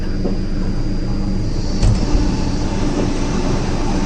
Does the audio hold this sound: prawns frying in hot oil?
no